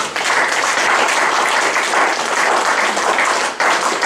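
A church congregation applauds the Lord together, a dense, steady wash of clapping that holds loud and even throughout with only a brief dip near the end.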